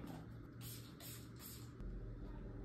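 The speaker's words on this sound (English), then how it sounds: "I bought this spray deodorant," A pressurized spray deodorant can, similar to Dove, sprayed in several short, forceful hissing bursts close by, then a longer steady blast at the end, with no talking.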